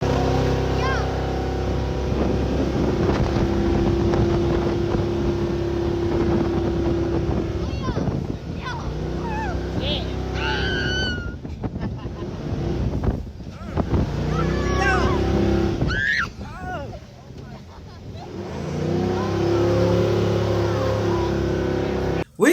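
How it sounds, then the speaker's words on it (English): A jet boat ride at the beach, with a steady engine drone and rushing wind over the water for a long stretch. Excited voices call out intermittently over the motor. "we had so much fun on that jet boat"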